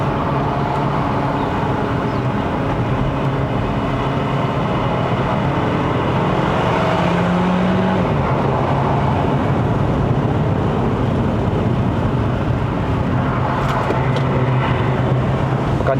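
A 2009 Audi Q5 2.0 TFSI Quattro climbs a mountain road under hard acceleration, its engine a steady, loud drone mixed with road and wind noise across the whole stretch.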